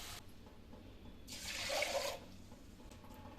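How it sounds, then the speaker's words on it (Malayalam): Water poured into a pressure cooker holding soaked raw rice, a brief rushing splash of about a second in the middle against a quiet kitchen background. "വെള്ളം ഒഴിക്കുമ്പോൾ ഞാൻ കാണിച്ചു തരാം"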